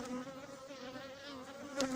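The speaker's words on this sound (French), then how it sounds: "Je suis à 1 mètre de la ruche. Il y a des abeilles qui viennent taper le téléphone." Honeybees buzz about a metre from a beehive, a close, steady drone with shifting pitches as they fly around, and near the end a bee bumps against the phone with a sharp tap.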